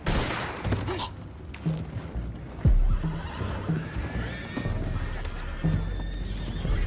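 Horses whinny and snort amid clip-clopping hooves, with bursts of gunfire and a heavy thud in a busy, action-filled scene in the video game Red Dead Redemption 2.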